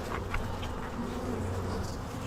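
Honey bees buzz around an open hive with a steady, moderately faint hum, and individual insects drone past close by now and then.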